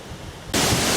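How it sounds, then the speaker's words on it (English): A rushing brook runs behind an inn in the Lake District, its steady broadband wash starting abruptly about halfway through and staying loud and even to the end. "picnic tables next to a rushing brook"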